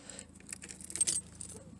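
Car keys jangling close to the microphone beside a carbureted car, a brief bright metallic rattle over a low idling hum, with no talking.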